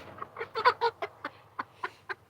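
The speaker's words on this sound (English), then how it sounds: "busy chicken." Backyard homestead chickens clucking close by in short, uneven bursts, a few louder calls early then spaced single clucks, with no talking over them.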